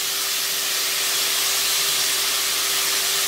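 Capsicum tipped into a hot pan for veg fried rice sizzles loudly and steadily, a dense close hiss with a faint steady hum beneath, no talking.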